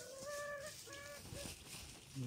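Hens raised on a small farm cluck and call in a few short, tonal bursts at moderate distance, with a lower grunting call near the end over faint background noise.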